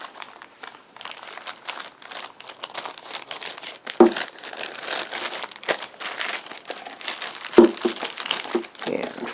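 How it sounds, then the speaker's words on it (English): Plastic bag crinkling up close as a boxed video game and its manual, poster and card are slid back inside, with steady rustling, a couple of sharper crackles, and some talk over it. "We'll get the game back in its bag."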